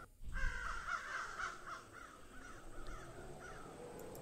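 Crows in an indie horror video game caw repeatedly in a rhythmic series of harsh calls, moderately near, over a low steady background hum.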